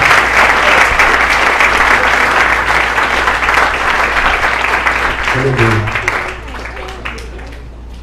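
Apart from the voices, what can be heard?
congregation applauding in church service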